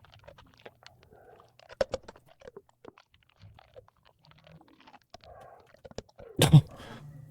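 A character in a horror video game chews amphetamine pills, giving scattered crisp crunches and clicky bites at close range, irregularly spaced, ending in a louder burst of crunching.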